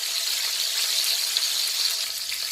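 Coffee and black pepper rib-eye steaks fry in a hot pan, giving a loud, continuous, close hissing sizzle with tiny pops and no speech.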